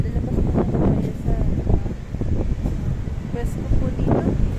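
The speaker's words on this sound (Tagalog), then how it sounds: "Ang hangin." Gusty outdoor wind buffets the microphone with a loud, continuous low rumble that swells and eases throughout, with faint bits of talking mixed underneath.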